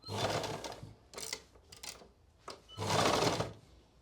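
A sewing machine stitches a buckram band along the edge of a salwar hem cuff, running in three or four close, loud bursts of rapid needle chatter separated by short pauses.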